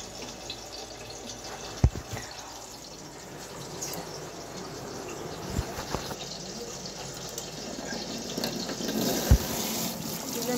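Large fish pieces rubbed with salt and turmeric fry in hot oil, a steady soft sizzle with a few sharp clatters, fairly quiet and without speech.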